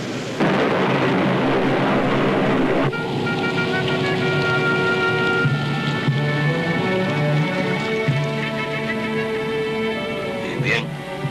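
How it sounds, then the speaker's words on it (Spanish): Heavy storm rain in an animated film pours steadily and densely throughout, with a sustained roaring wash and faint rumbling beneath, mixed with other layered sound elements. "La tormenta está arreciando."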